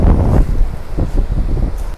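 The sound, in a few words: ocean waves and wind at the coast in Hualien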